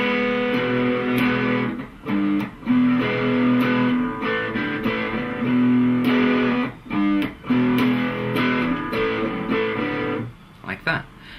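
An electric guitar plays the verse of a song slowly, with sustained chords and single notes separated by brief pauses, moderately loud and alone without talk.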